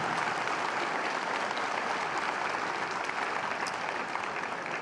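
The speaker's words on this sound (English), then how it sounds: "Let's give them a big round of applause." Full crowd applause at McNary High School's 2022 graduation ceremony, a loud, continuous roar of clapping from a large audience that holds steady throughout.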